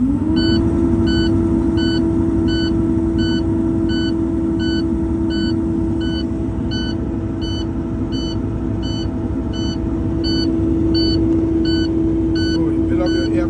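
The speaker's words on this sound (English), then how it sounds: "That's your low air pressure warning alarm." A truck's low air pressure warning alarm beeps in a rapid, steady repeating pattern over a loud idling engine, with a continuous tone beneath.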